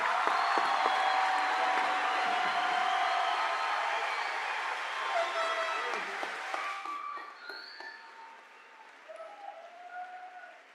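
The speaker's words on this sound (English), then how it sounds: "Let's give a big applause for our graduates." A graduation audience in a high school ceremony for the class of 2024 claps and cheers, dense applause filling the hall before thinning out and fading to scattered claps.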